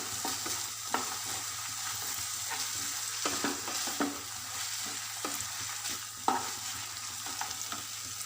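Dragon chicken in red chilli sauce being stirred in a hot pan, a steady close sizzle broken by repeated light scraping and clinking strokes from the spoon, with no voices.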